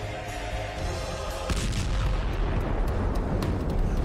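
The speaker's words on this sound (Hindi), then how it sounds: "इस टैंक पर यूक्रेन की फौज एंटी टैंक गाइडेड मिसाइल से हमला करती है" A Russian tank struck by a Ukrainian anti-tank guided missile in wartime: a steady low rumble, then a sudden heavy blast at about 1.5 seconds that rolls on as loud, crackling, booming roar to the end.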